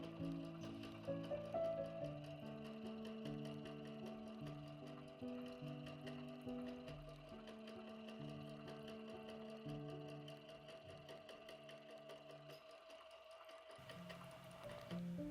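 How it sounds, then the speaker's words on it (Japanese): A sewing machine quilts fabric layers with batting, its motor and needle whirring in a steady mechanical rhythm up close for a long stretch, pausing briefly near the end before starting again. "ミシンでキルトしましたよ"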